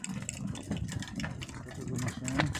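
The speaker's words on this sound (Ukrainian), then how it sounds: "Я не знаю, беха буксує." A stuck BMW car spins its wheels, its engine droning at a steady mid pitch with slight surges while people talk nearby.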